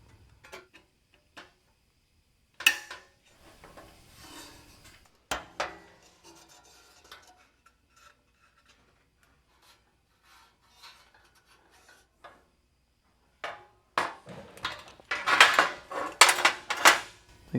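A metal trunk lid panel on a rusty Ford Model A is clamped in place before TIG welding. Sparse, quiet clinks, scrapes and rubs of metal and tools build to a busier cluster of clanks at the end.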